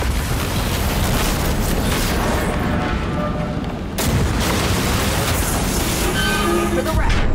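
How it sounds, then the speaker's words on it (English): A loud, close explosion in Cyberpunk 2077 Phantom Liberty lands midway through a dense, rumbling stretch of combat noise with gunfire and booms, and voices talk over it. "It's gonna explode!"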